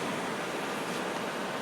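Water boils on a butane one-burner camp stove, giving a steady, dense broadband roar of bubbling and burner hiss, close and unbroken with no talk.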